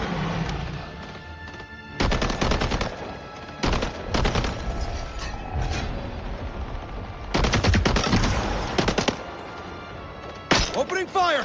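Rapid automatic gunfire in the video game Highguard, loud close bursts of several seconds each separated by short pauses, with in-game voices heard between the volleys.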